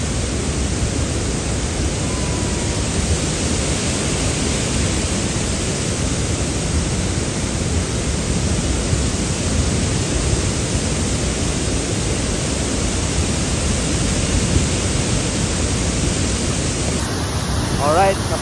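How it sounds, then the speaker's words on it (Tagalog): Nugget Falls at Mendenhall Glacier roars as a dense, steady wash of falling water, loud and close from directly beneath the cascade, with no letup throughout. "Alright, nasa ilalim tayo ng falls."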